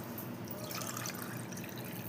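Water pours steadily into a pot for cooking seeraga samba rice, three cups for one and a half cups of rice, a continuous close trickling and splashing stream with no talk.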